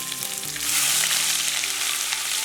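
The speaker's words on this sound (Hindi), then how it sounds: "तो इन मसालों को कुछ सेकंड्स हमें भून लेना है" Spices with grated ginger and green chillies crackle and sizzle in hot oil, a steady close-up frying hiss that grows slightly louder partway through.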